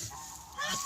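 A Guinea goose gives a single short, nasal honk near the end of a brief moment of faint background sound.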